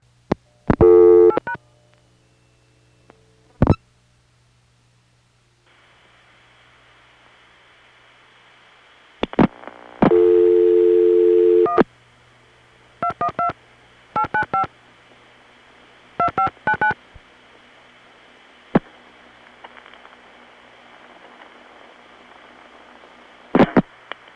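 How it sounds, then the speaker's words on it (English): A dial tone hums steadily, then a landline phone's touch-tone keys sound in short bursts of DTMF beeps, some sharp and some spaced, over a faint rustling line hiss. "I could have gotten it by dialing the same thing as last time, but I just happened to dial a different number."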